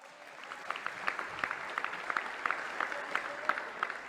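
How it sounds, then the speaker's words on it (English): Scattered applause from a small group of workers in a hall, distinct claps popping irregularly over a soft background, fairly faint and somewhat distant. "The people clapping are the ones who work there"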